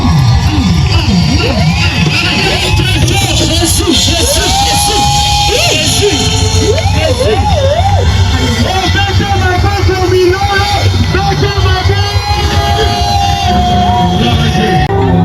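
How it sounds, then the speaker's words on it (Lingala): An outdoor evangelism campaign crowd cheers, whoops and shouts loudly in welcome of an evangelist, a dense continuous roar with voices yelling over it and keyboard music playing beneath. "Acclamez très fort"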